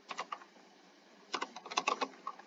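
Typing on a computer keyboard during Minecraft play: two quick flurries of light, close key clicks separated by a short pause, with no voices.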